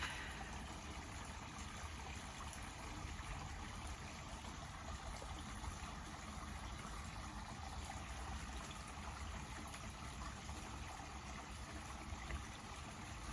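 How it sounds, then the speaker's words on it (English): Water trickles steadily beside a garden patio, a soft continuous wash of running water with no pauses, close and even throughout. "I love the sound of the water."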